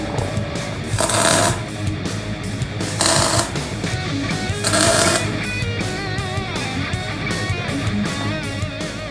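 An exhaust pipe is welded in a loud, continuous crackling buzz that holds steady throughout, with louder bursts of hiss rising and falling as weld beads are laid down close by.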